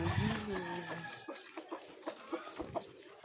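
Chickens cluck in a backyard coop, a rooster-like call and several short, fairly close clucks rising over a low rumble of background noise, with no one speaking.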